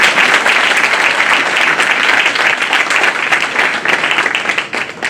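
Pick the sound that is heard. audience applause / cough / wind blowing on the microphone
audience applause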